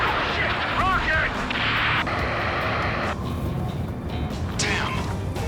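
Rocket explosion amid combat in the Ace Combat 7 video game, a loud sustained roar and rumble with crackling bursts, layered under urgent voices.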